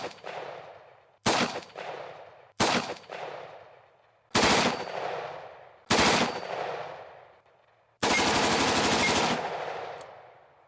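Five sharp, loud rifle shots from a SIG SG550 firing 5.56x45 NATO ammunition, evenly spaced about every 1.5 seconds and each leaving a long decaying echo, ending with a short rapid automatic burst of fire.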